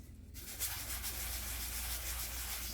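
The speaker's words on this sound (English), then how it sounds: "I like to sand them in batches just to kind of get them all done" Sandpaper rubbing steadily over small air dry clay pieces, a continuous close, even scratchy friction with no pauses, loud and alone after a brief quiet start.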